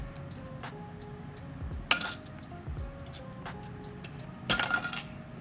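Black plastic protective cover popping off a CPU socket on a 2025 gaming PC build, two sharp plastic clicks a few seconds apart, close and crisp against a quiet room.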